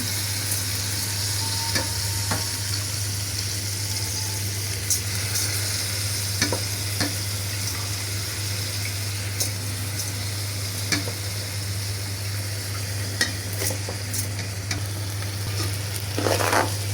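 Rice and lentils for khichuri are fried and stirred in a pan, giving a loud, steady sizzle throughout with occasional scraping clicks of the spoon, close up and with no talking.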